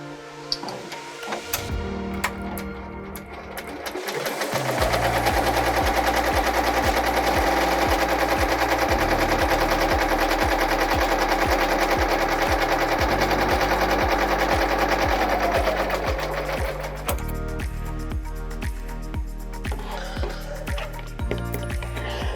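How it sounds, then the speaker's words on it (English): An embroidery machine stitches a placement line on white fabric with yellow thread. A rapid mechanical rattle starts after a few seconds, runs steadily and loudly for about twelve seconds, then winds down to softer clicking. "So I'm going to put it back in the machine and let it do the placement line for me."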